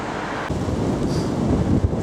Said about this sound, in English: as you can hear, pretty windy still